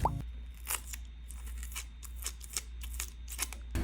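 Scissors snipping paper Halloween decorations, cutting around small features like eyes and a nose: a run of short, close crisp snips and crinkles at an uneven pace, with no voices.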